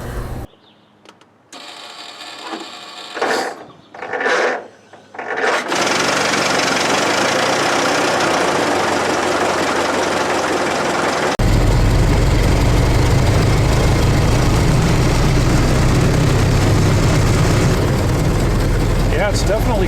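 A 1918 Ford Model T engine runs loud and close with a steady, rough mechanical drone. A few muffled bumps come first, then the engine note holds, growing slightly fuller partway through.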